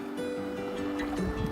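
Someone wades in a cold, clear river in Yellowstone National Park, with close swishing and sloshing water over a steady low hum.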